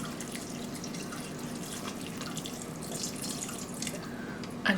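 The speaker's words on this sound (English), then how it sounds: "and I'm adding my water." Water runs steadily into a pot in a home kitchen, a faint continuous trickle and splash with no talking, ending in a brief louder clatter.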